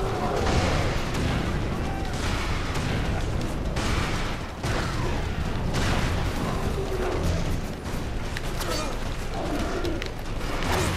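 A dense, continuous roar of booms, crashes and mechanical clatter from missile explosions in the Prototype action game, loud and unbroken for the whole stretch.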